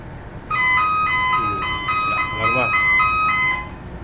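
A control panel alarm sounds during generator testing, a repeating electronic melody of beeping tones in steady pulses, loud and near, with people talking over it.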